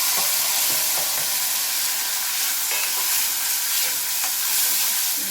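Ginger and green chili sizzle in hot oil, a loud, dense, unbroken hiss with light crackling pops scattered through it, close up and alone.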